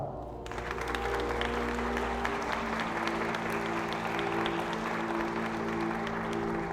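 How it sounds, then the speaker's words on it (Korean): Wedding guests in a hall give sustained, dense applause that carries on evenly throughout, over a faint steady hum of background music. "다시 한번 박수 부탁드리겠습니다."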